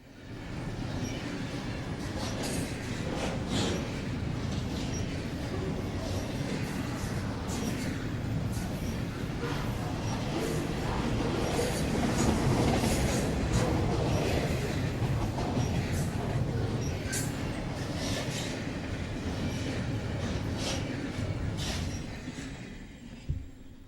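A Norfolk Southern train rolls past on the New Castle District line, a steady, loud rumble and rattle of wagons that holds for the whole stretch, swelling slightly midway before easing off.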